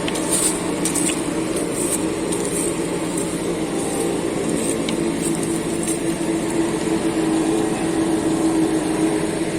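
A Deutz 9340 tractor with a mulcher runs steadily while clearing branches in a forest, a loud continuous engine drone with a droning hum throughout and no talking.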